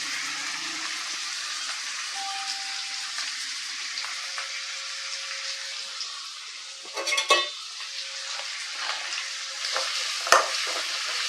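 Chopped shallots, onions and curry leaves sautéing in a pan, a soft steady sizzle with a few brief spatula scrapes and clinks near the end.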